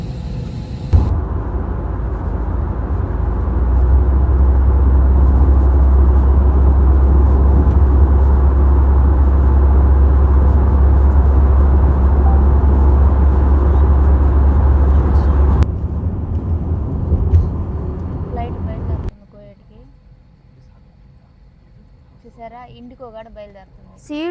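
A passenger jet's loud engine roar, heard from a seat beside the wing, builds and holds steady for several seconds, then drops away to a quieter cabin hum with people talking.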